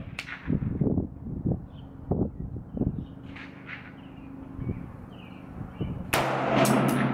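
A 300 BLK subsonic 125-grain round fires from a rifle with a 10.5-inch upper at a range. The sharp report comes near the end and rings on briefly, after a stretch of faint scuffs and clicks.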